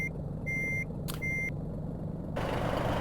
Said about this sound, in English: you can actually hear single parts rattling on the engine